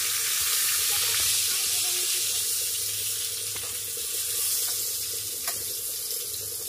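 Potatoes frying in a pan in a home kitchen, a dense continuous sizzle and hiss of hot oil at steady loudness, close by with faint clinks, no talk.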